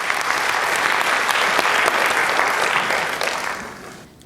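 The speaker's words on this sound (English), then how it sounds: "A big round of applause to Guru Srimati Madhvi Mehta." A room of spectators claps steadily for a Bharatanatyam arangetram guru, the dense applause holding strong and close before fading out near the end.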